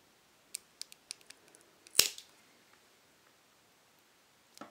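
Scissors trimming a micro SIM card down to nano SIM size: a series of small sharp snips, then one loud crisp cut in the middle, and a final faint snip, close up with no talk.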